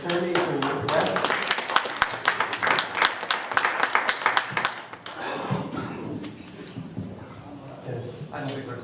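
Audience applause at a Sauk Village board meeting, a dense run of many hands clapping for about five seconds that then thins out and gives way to room murmur and a voice talking.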